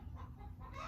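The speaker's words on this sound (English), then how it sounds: "Got a chicken in the barn over here." A chicken in a barn, a few soft clucks over a low background rumble, brief and fairly faint.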